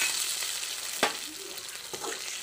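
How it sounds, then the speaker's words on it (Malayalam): Chilli powder mix for rose apple pickle sizzles steadily in a pan after water is poured in, with a couple of sharp stirring scrapes over the constant hiss. "ഇനി അതിൽ കുറച്ച് വെള്ളം കൂടെ ഒഴിച്ചു കൊടുക്കുന്നു."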